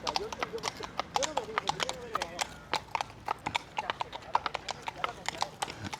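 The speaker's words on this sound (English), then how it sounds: "in Barcelona they still bring out the horses for a morning walk to do patrolling" Barcelona police horses walk along a street in the morning, their hooves clip-clopping in a steady, close, uneven rhythm with a brief whinny among the steps.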